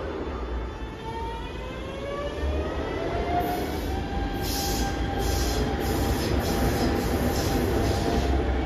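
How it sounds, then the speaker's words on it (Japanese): A Hanshin local commuter train pulls out of a station on a sharp curve. Its motor whine rises steadily in pitch over rumbling wheels, and bursts of high wheel squeal come in the second half. "ちょうど今普通電車が発車していきましたが"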